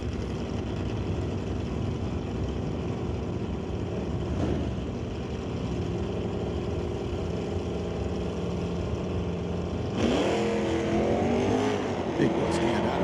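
A '66 Mercury and a '68 Dart sit at a drag strip with a steady engine rumble that lasts a long stretch, then break into a sudden louder roar of revving engines as they launch near the end.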